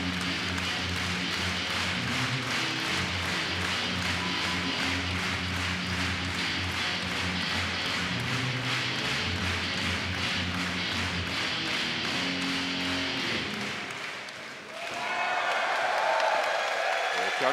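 Wrestling crowd at a New Japan Cup 2018 show in Shizuoka roars for Tanahashi with steady rhythmic clapping and cheering throughout, a dense loud arena sound that briefly dips near the end before swelling again.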